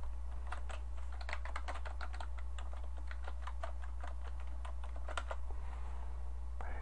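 Fingers type a domain name on a computer keyboard, giving quick irregular clicks with brief pauses, close and fairly quiet over a low steady hum.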